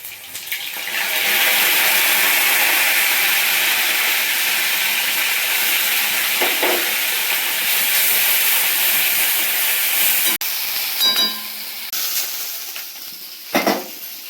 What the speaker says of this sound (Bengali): সমস্ত বাটা মশলা আমি এটাতে দিয়ে দিচ্ছি তেলে আর ভালো করে কষাবো